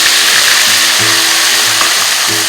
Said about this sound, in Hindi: उसके अंदर मैं ये 1 कप ऑयल डाल दूंगी और इसको मैं अच्छे से गर्म कर लूँगी। अब बहुत ये तैयार के साथ मैं इसमें ये प्याज़ों का पेस्ट डाल दूँगी।